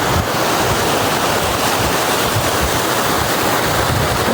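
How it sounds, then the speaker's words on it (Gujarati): A steady, loud roar of water pours over rocks at Dhanikhunt waterfall, heard from close up as a dense, unbroken rush with no voices. "પાણીનો ખડખડ અવાજ આવે તમને સંભળાતો હશે."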